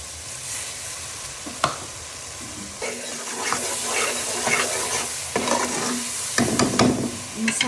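Ground spices with whole garam masala fry in a pan under steady sizzling, while a spoon scrapes and stirs through them in repeated clinks and knocks, close by and with no talking.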